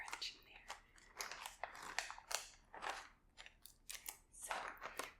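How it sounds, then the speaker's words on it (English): A Korean cracker snack is crunched and handled in a quiet ASMR shop setting, producing a run of close, crisp bursts of crackling and crinkling in an irregular rhythm, with soft speech between them. "You can hear the crunch in there."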